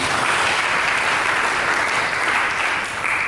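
Steady crowd applause at a church sermon, dense and continuous, with many hands clapping at once for a few seconds.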